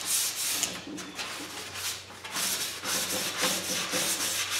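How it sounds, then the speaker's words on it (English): A painted wooden headboard being sanded by hand, continuous close rubbing and scratching strokes in a steady rhythm, moderately loud with no voices. "now that it's sanded down and a lot of the bubbles have been taken out"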